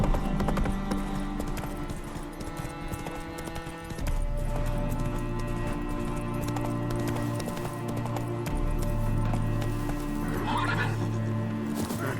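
Geralt's horse Roach in The Witcher 3 gallops with steady hoofbeats while a neigh rises near the start, all set against a continuous game music bed.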